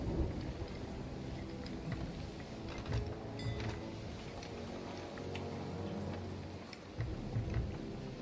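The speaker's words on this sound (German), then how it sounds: "Wir sind ja gerade im Sturm." Stormy weather in the pirate video game Sea of Thieves: steady rain washes over the scene while low thunder rumbles roll through, with a sharper crack near the middle and another toward the end, and no voices.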